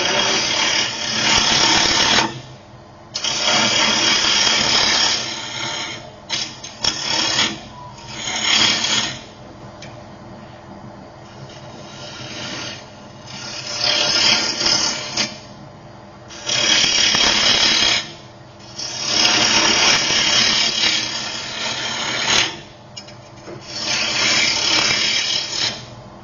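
Woodturning on a lathe, a gouge taking full cuts across the back of an embellished bowl or platter without the bevel rubbing; a steady, loud scraping rasp in repeated passes with brief pauses between them.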